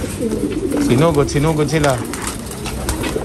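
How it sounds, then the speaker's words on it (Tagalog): Many pigeons coo in a crowded loft, with a close, layered, rolling chorus of overlapping calls and a voice speaking briefly over them. "Sa sobrang daming kalapati dito"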